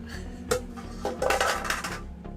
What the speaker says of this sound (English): you do the dishes